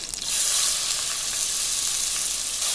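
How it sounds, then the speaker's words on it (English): Finely chopped onions and curry leaves frying in a hot pan for mutton kheema: a loud, steady, hissing sizzle that fills the whole moment, with no voices. "Now let's add the finely chopped onions."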